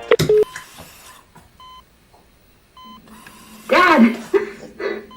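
Telephone dialing tones from a live stage performance, short steady beeps separated by pauses, mixed with sharp clatter and a loud voice near the end.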